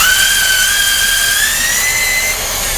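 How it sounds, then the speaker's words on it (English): A high-pitched power drill whines steadily while boring a 3/8 inch hole into a wooden decoy body, its tone rising slightly as it bores, loud and close with no talking. "So I'm just gonna drill a hole in there."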